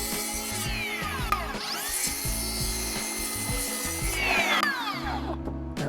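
Circular saw cutting a wooden roof plate on a hipped single-garage build, a steady close whine broken by repeated short stutters as the blade bites, ending with a brief drop near the finish.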